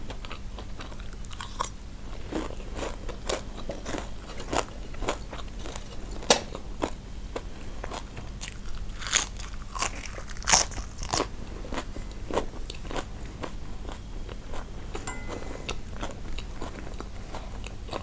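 Crunchy fried pork intestine with garlic being bitten and chewed close up, a long run of sharp, irregular crackling crunches over a steady low background hum, with no talk.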